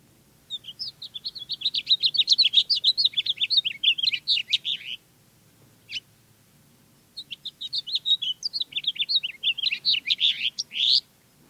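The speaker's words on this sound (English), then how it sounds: "That is a house finch." A house finch sings two long, lively warbling phrases of rapid bright chirps, with a single short note in the pause between them. The song is clear and close, with no talking.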